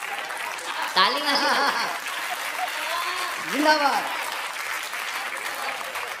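Audience applause at a Hindi comedy poetry show (hasya kavi sammelan), sudden bursts of clapping under a reciting voice, with a shout of cheer in between and talk continuing throughout.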